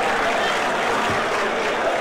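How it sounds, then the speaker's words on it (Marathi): An audience claps steadily at a public speech event in Maharashtra, a dense continuous patter of many hands at even loudness throughout, with a faint murmur of voices mixed in. "पुन्हा एकदा त्यांना आपण सर्वजण टाळ्या वाजवून शुभेच्छा देऊया."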